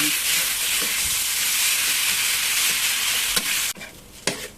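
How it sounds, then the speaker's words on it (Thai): Rice stir-fried in a pan with yentafo sauce, soy sauce and palm sugar, giving a steady loud sizzle with scraping spatula strokes that drops sharply near the end, leaving a quieter hiss and a final clatter. "ผัดให้สีแดงเข้าเนื้อ เข้าให้มากที่สุดนะคะ"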